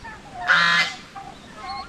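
A goose gives one loud, nasal honk close by, followed by softer, fainter calls from nearby birds.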